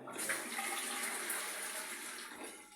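Water runs steadily from a tap with strong pressure in a house, a continuous hiss-like rush that stays even and unbroken throughout, with no voices.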